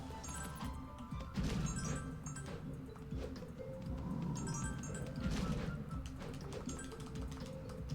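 Repeated chopping in the Wii game Drawn to Life: The Next Chapter, with steady crashing and whacking hits over game music and ambient effects.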